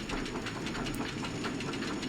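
Tilt coaster train running on its track in Rollercoaster Tycoon 3, a continuous rumbling roll with a quick rhythmic clickety-clack, fairly close and steady, with no voices.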